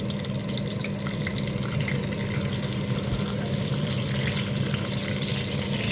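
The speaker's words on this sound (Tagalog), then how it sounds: "Ito namang pinikas ang aking ipiprito." Dried fish (pinikas) frying in a pan in oil, a continuous close crackling sizzle with a low steady undertone and bright popping spatter, unbroken throughout and without speech.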